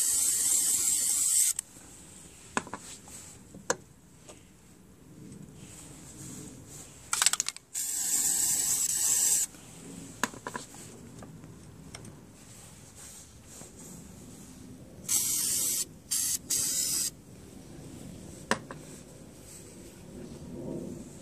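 Liquid Wrench penetrating oil hisses from an aerosol can onto a Craftsman 928 snow blower in several short bursts, close and fairly loud, separated by quieter clicks and handling noises.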